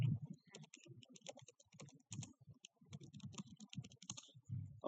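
Quick, irregular keystrokes on a computer keyboard typing a command into the Windows Command Prompt, close and fairly quiet with short pauses between bursts of clicks.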